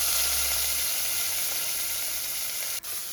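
Chopped onion drops into hot oil and sizzles steadily and loudly in a pan, a continuous dense hiss, alone with no talking.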